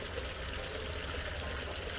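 Water pours steadily from a bucket setup into a motorhome's tank, a faint continuous rushing trickle with a low rumble underneath and no talking.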